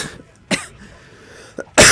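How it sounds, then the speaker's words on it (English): Sharp coughs, close to the mic: a couple of quick bursts, a small one, then a louder cough at the end. "no, I'm coughing, but I'll edit that out"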